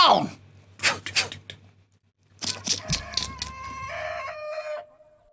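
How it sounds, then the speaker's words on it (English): A rooster crows in a radio-style science fiction drama set on Mars, a mid-distance call heard after bursts of voices and rumble, ending in a drawn-out tonal cry that fades. "I could swear I heard a rooster"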